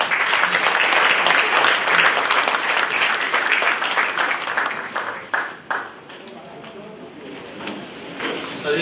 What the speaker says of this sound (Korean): 여러분의 박수로 환영하도록 하겠습니다